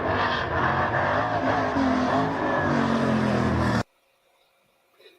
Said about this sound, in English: That's a good long wheelie for a sprint car with no rear steer.